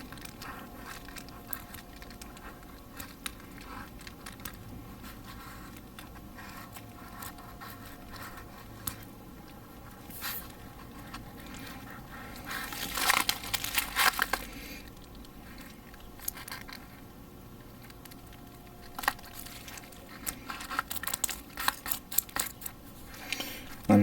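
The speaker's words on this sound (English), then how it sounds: "I'll just sand it off with one of my filing tools, and then scrape it off" Filing and scraping filler off a 1/60 Broken Blade Delphine Gundam model kit with a hand file, a steady run of fine rasping and scratching strokes that intensifies in a brief louder burst midway, alone without talk.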